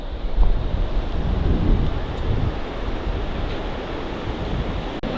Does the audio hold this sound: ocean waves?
yes